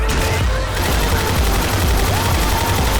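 Dense, continuous gunfire from the Left 4 Dead 2 zombie shooter, rapid overlapping shots filling the whole stretch with loud crackling bursts and a faint voice briefly heard beneath.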